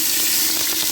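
Raw mutton drops into hot oil in a pressure cooker for nihari, giving a loud, dense, continuous sizzle with no voices.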